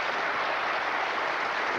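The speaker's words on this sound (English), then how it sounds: "Well, that's worth a round of applause" Dense, steady studio audience applause on a 1991 TV game show, a continuous wash of clapping heard throughout without any voices.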